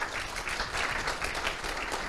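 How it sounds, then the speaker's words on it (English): Audience applause at a conference panel on Ukraine's energy trends, a steady, dense patter of many hands clapping at moderate distance, continuing throughout without speech. "Please, the round of applause."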